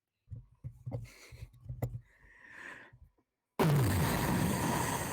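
A voice imitates the huge explosion of a ship ripping itself apart: a few seconds of quieter murmured sounds, then a sudden loud, sustained rushing roar filling the rest.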